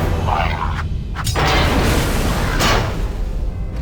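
A mine detonates in Star Wars: Knights of the Old Republic II, a loud booming blast with a second burst after it. Both sit over a constant rumbling game background, with no voices.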